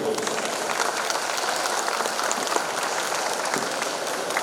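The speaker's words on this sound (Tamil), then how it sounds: "ஒரு பலத்த கரகோஷம் கொடுத்து உற்சாகப்படுத்துங்கள்" An audience applauding children who performed on stage at a Salangai Poojai event, steady dense clapping at even volume throughout.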